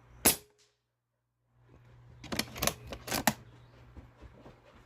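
A Snowpeak T-Rex .22 PCP bullpup air rifle gives one sharp, close crack, then a pause followed by a quick cluster of snappy clicks and taps over a low hum.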